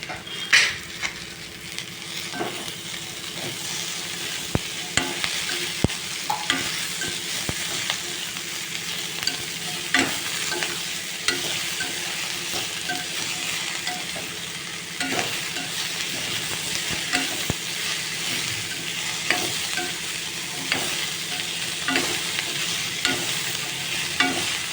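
Chopped radish sizzles and hisses in a hot pan while a utensil stirs and scrapes repeatedly, steady frying with frequent clinks, no talking.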